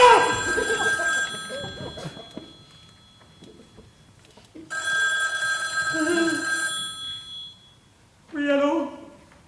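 An old-style telephone bell rings in bursts, long metallic trills separated by pauses, with a shorter final ring, loud and close in a quiet room.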